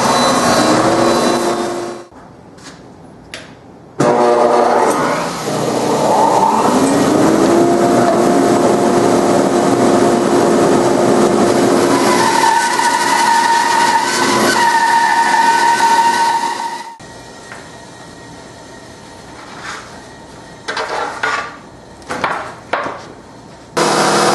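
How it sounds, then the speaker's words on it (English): A jointer and a bandsaw resaw a wooden board for a small secretary hutch. A loud, steady machine roar holds for a long stretch, then gives way to quieter, scattered bursts. "I'm going to joint one edge perpendicular to this. And then I'm going to go over to the bandsaw and I'm going to resaw this down."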